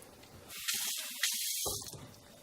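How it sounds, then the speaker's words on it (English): Tap water runs into a wide-mouth glass jar held in a sink, a steady hissing stream for about a second with a hollow filling tone, quiet before and after. "So I'll usually get a little bit of tap water in there."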